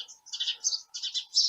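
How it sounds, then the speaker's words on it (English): A small bird chirps from the corner of Thai roof tiles, giving short bright bursts of tweets in quick groups with brief pauses between, close by and fairly clear with no talk. "there's a bird hanging out of the corner there"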